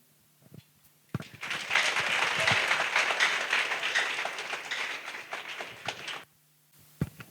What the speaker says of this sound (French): sous vos tonnerres d'applaudissements